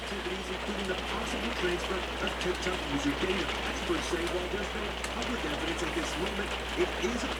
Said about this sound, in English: but it's really raining.